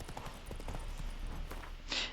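Roach the horse walking in The Witcher video game: a quick run of soft, distant hoof clip-clops on the ground, fairly quiet, ending in a brief hiss-like burst.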